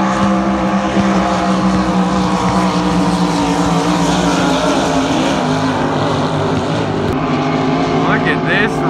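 Pro Lights hydroplane race boats racing at the Madison Regatta, a loud continuous engine roar with shifting pitch heard from nearby, with people talking over it.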